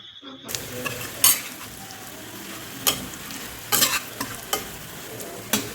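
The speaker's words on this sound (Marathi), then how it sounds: "मी मसाला टाकून मस्त याला फ्राय करते अर्धा मिनिट म्हणजे मसाला पण मस्त भाजला जातो" Green chillies fry with raw masala in a pan, a continuous close sizzle broken by several sharper scrapes and clacks of a spoon stirring against the pan.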